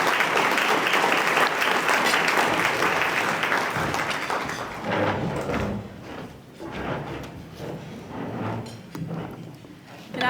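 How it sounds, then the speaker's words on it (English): Audience applause at a scholarship dinner, loud and dense for about four seconds, then thinning into scattered claps with thumps and shuffling as the room settles. "Let's give her a round of applause as she's coming"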